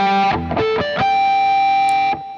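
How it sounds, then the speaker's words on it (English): A distorted electric guitar picks a quick run of bright, bell-like flageolet harmonics, ending on a sustained ringing note that cuts off after about two seconds, loud and up front with no talking. "here, flageolet tones"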